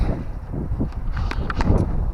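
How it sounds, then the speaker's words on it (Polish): Gusty wind rushing over the microphone in a brief, continuous roar with a few rustling bursts. "Straszny wiatr dzisiaj wieje."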